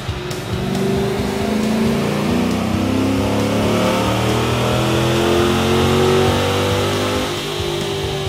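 A 2010–2011 Chevrolet Camaro engine revs steadily on a dyno, a loud, sustained mid-pitched drone with rising and falling harmonic tones throughout, close and unbroken.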